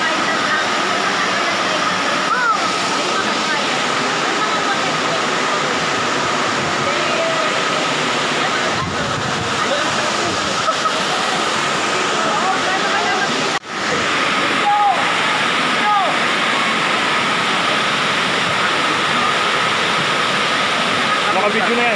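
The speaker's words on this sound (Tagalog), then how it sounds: "nandito yung Dream Falls, oh" Aliw Falls at Pilgrims Dream Ecofarm in Luisiana, Laguna roars as a steady, broad rush of falling water close by, with people talking over it and a brief knock partway through.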